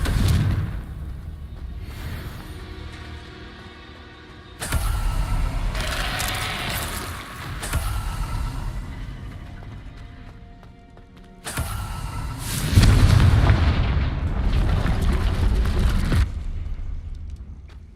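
Repeated Confringo spell blasts in the Hogwarts Legacy video game, three long booming explosions with rumbling, crackling tails spread across the stretch, loud and full over a steady game background.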